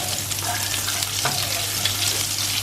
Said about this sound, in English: And now I'm going to stir them into the oil.